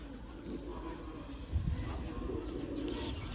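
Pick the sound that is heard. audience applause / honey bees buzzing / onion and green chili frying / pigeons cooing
pigeons cooing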